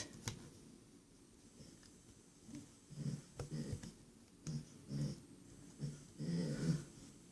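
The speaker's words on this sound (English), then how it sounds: "that silly noise you hear in the background is my doggie" A dog grumbles and snuffles in low, rumbling bursts, fairly quiet and close, with breathy grunts repeating over several seconds.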